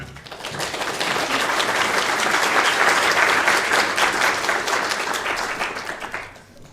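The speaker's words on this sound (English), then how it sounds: "So it's nice of you to clap me." Lecture audience applauding, a dense steady round of clapping that swells, holds for several seconds and fades out near the end.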